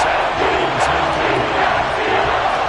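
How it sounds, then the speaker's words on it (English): A football stadium crowd applauds the defense after a forced incompletion, a dense, steady wash of clapping and crowd roar filling the whole moment with no break. "Some applause for the defense there."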